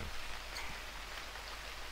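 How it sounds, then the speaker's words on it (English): Steady rain patters in the wilderness survival game Unreal World, a soft even hiss of drops with no voices, continuous throughout. "Wake up to the rain."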